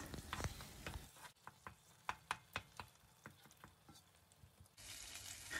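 Aubergines with dried mint cooking in oil in a frying pan and being stirred, a steady sizzle broken by a run of sharp scraping clicks from the spoon, with no voices.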